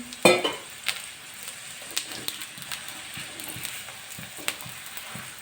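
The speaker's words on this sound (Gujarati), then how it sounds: "એકદમ ઓછા તેલમાં દોડો લઈને તળવાનું છે" A chicken paratha fries in a little oil on a pan, giving a steady close sizzle broken by scattered scrapes and taps of a spatula, with one louder clatter near the start.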